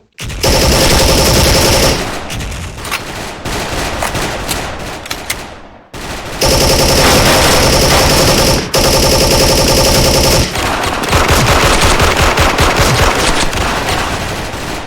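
Rapid automatic fire from a P90 submachine gun in the online shooter Special Force, long loud sustained bursts with a brief gap near the middle, then continuous firing, no voices.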